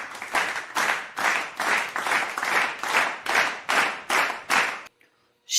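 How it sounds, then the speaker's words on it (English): About eleven rhythmic bursts of clapping, each swelling and fading in a steady beat, loud and close, then a sudden stop into near silence. The round of applause is for Aunt Molly. "Let's please have a huge CLL round of applause for Aunt Molly"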